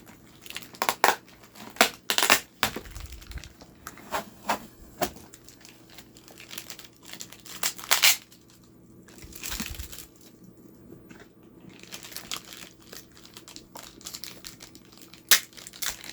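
Plastic packaging bags crinkle and crush in bursts while a Monster High Hocus Pocus Sanderson Sisters three-pack doll set is unboxed, with sharp rustles spaced across the clip and quieter handling between them, no talking.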